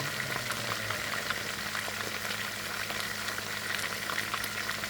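Beef steak cooks in a pan with a continuous low bubbling sizzle, steady and fairly faint throughout, with a mechanical hum underneath and no talking.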